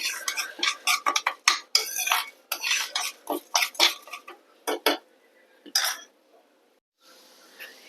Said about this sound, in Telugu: రా రైస్ వేసుకుంటున్నాను. దాన్ని ఒక 2 to 3 మినిట్స్ ఫ్రై చేసుకోండి.